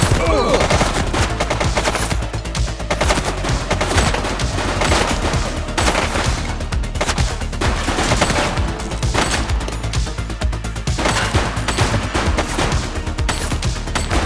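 Rapid gunfire from The Precinct video game, bursts of automatic shots and single cracks packed densely over a steady backdrop of in-game music and sound, continuous and loud throughout.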